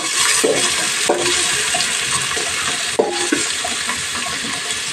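Chopped onions sizzling loudly in a pan for a chicken dish, a dense continuous fry punctuated by several scraping stirs of a spoon.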